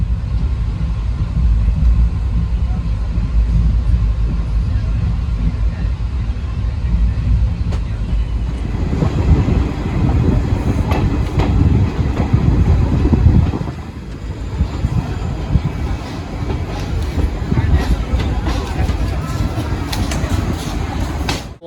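A passenger train departs Kakar Ghati station in Bihar and runs along the rails, a loud continuous rumble with wind buffeting. It grows heavier and more clattering partway through, then eases slightly.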